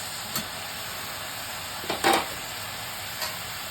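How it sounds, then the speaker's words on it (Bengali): Capsicum frying with spring onion and garlic greens in a pan: a steady soft sizzle with a few brief stirring scrapes and clinks, near and moderately loud, no voices. "এবার পেঁয়াজ পাতা রসুন পাতা মিক্স দিয়ে দিচ্ছি, হালকা হালকা ভাজবো।"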